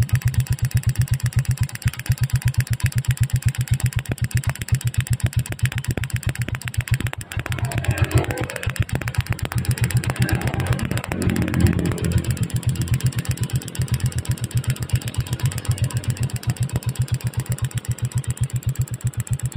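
Motorcycle engine fitted with an Apido ignition coil used for seven months, idling steadily with a fast, even putter close by, a slight rise in revs midway, no talking.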